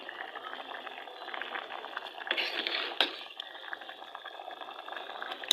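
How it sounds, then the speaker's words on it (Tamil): Ration toor dal simmering with shallots, green chili and tomato, a steady soft bubbling and gurgling close by, with a brief louder burst of bubbles midway and no talk. "சின்ன வெங்காயம் பச்சை மிளகா ரெண்டு தக்காளி இவ்வளோ போட்டு நல்லா வேக வைக்கணும்"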